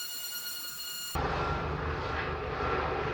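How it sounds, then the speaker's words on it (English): A low-flying helicopter circles overhead in a backyard, its broadband rotor and engine roar starting abruptly and holding steady and fairly loud for a few seconds. "It's a really low flying helicopter."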